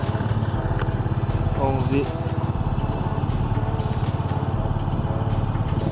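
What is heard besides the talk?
Yamaha FZ25 motorcycle engine started and idling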